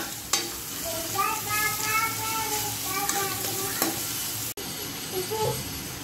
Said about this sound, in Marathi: हिरव्या मिरच्या आणि लसूण तेलामध्ये छान परतवून घेतलेला आहे